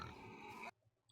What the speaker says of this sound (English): They just got pigs making sounds.